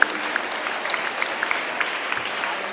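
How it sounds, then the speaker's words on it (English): An audience at a school annual day applauds the teachers and staff with a dense, steady patter of many hands clapping, and a few sharper claps stand out. "I think they also need a round of applause for all the teachers and the non-teaching staff."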